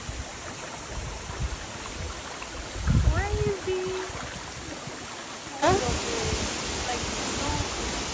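Napuru Waterfall in Arusha, Tanzania rushes with a constant broad roar of falling water, steady throughout, while people exclaim and talk briefly over it.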